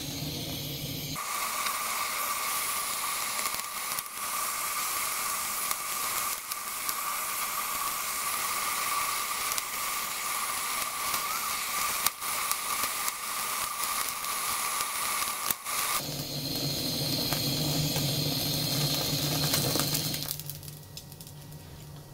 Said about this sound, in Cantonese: 咁用呢啲火槍咧就要小心啲啦